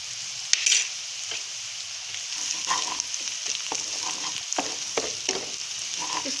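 A tablespoon of cumin seeds fries in hot oil, giving a steady crackling sizzle with spoon scrapes and stirring taps throughout, close and clear with no talking.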